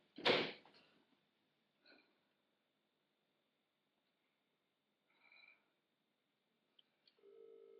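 A telephone rings in a few short, faint electronic tone bursts spaced several seconds apart in a quiet room, with a thud at the start.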